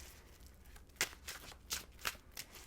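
Tarot deck being shuffled by hand, a few crisp riffles and slaps at irregular intervals, near and quiet, with no one speaking.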